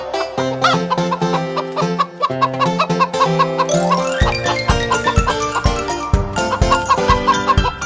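Hens clucking in quick, bouncy bursts woven into a cheerful Korean children's song, Ten in the Bed, with a steady beat.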